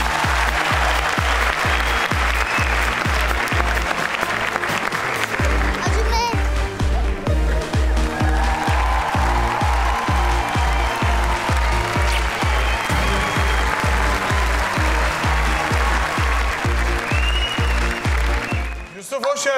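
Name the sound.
audience applause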